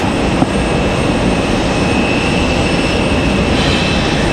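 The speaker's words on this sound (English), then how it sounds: "Our main focus, though, is that MD-11. She is on the move." A McDonnell Douglas MD-11 moving at stormy Raleigh-Durham International Airport, a loud, continuous broadband engine roar that holds steady and close for the whole stretch.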